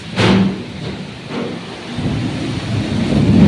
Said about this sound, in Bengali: কাল বৈশাখী ঝড় বৃষ্টি।